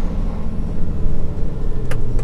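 A truck rolls along the road in a steady low engine rumble heard from the cab, loud and continuous, with a couple of brief clicks near the end and no talking.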